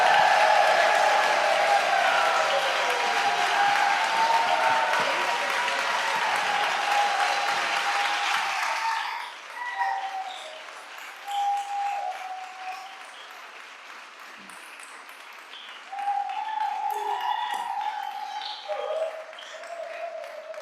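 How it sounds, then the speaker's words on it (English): A banquet-hall crowd at a gala applauds warmly as a guest comes up, the clapping fading after about nine seconds into quieter room noise with a voice speaking over it. "Nice round of applause."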